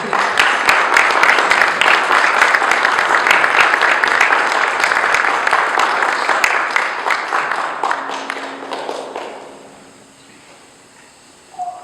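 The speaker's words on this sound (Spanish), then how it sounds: "Vamos a recibirlo con un aplauso bien fuerte" Spanish-speaking church congregation claps loudly to welcome a brother preaching the morning message, dense vigorous applause for about eight seconds that thins and dies away into near silence, ending with a small bump of sound.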